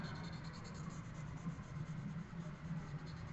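Soft, continuous rubbing of cloth over graphite on paper in small quick circles, a steady faint swishing scrub up close.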